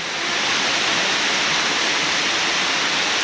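Heavy daytime rain pours down on a village in Simeulue, Aceh, a steady, dense, loud hiss that fills the whole stretch without a break.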